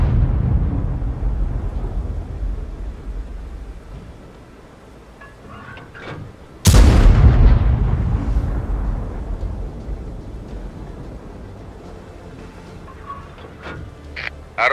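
Main gun of a Somua SAu 40 tank in a video game firing one heavy, sudden boom that rolls off into a long, fading rumble over constant engine and battlefield drone.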